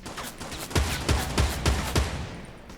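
Five evenly spaced gunshots from a gun in the video game Fortnite ring out in a steady rhythm, each one a sharp, punchy crack, fairly loud and with no talking over them.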